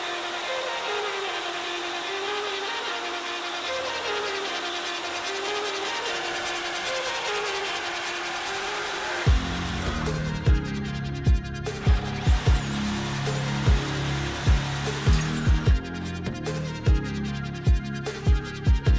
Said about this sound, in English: I'm gonna get my reciprocating saw and cut this one off